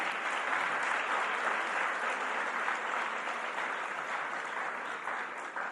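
An audience at Bowie State University claps for elected officials at a homeownership cost reduction announcement, producing sustained, even applause throughout that stays at a steady level and fades slightly at the end.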